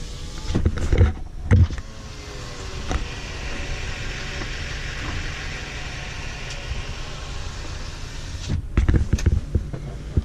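Power windows on a 1998 Toyota 4Runner run through a long, steady motor whine, with a few clunks as the glass starts and stops at either end. The sound is close and comes through without any talk.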